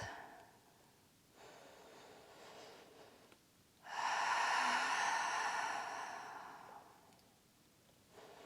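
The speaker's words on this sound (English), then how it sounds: "taking a few deep breaths" Slow, deep breaths during a seated yoga session, a few long airy inhales and exhales in a quiet room, close and soft, with no talking.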